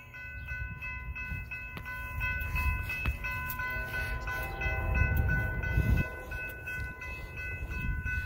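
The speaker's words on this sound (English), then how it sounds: "We'll sit here by the world's largest egg and watch the train go by." An Amtrak train rolls through Winlock, Washington, sounding sustained horn tones over a low rumble of wheels and cars that builds as it passes nearby, with no talk.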